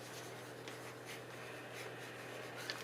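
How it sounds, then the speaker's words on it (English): Handwriting on paper, a faint continuous scratching and rubbing with soft repeated strokes over a quiet room hum, close and low in level. "I must write it down, because you know, I need to write it down"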